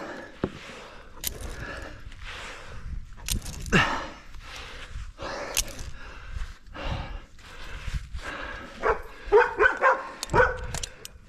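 A dog out on a wooded hike makes a series of short, close bursts of huffing, snorting and gruff barking, irregularly spaced and moderately loud against quiet outdoor surroundings.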